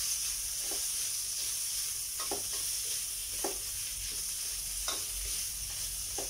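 Chicken and siomai stir-frying in a pan for pansit bato give a steady close sizzle and hiss, broken by regular scraping strokes of stirring roughly every second, with no talking.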